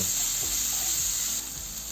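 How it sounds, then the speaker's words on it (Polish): Steady frying sizzle of onion and bell pepper in a pan, a bright continuous hiss with faint stirring clicks, close and constant with no voices. "Mieszamy i gotujemy pod przykryciem przez około 10 minut"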